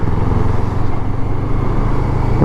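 A 2014 Kawasaki ER-6n motorcycle, restricted for A2 licence use, runs with a steady, loud, close engine drone and no talk over it.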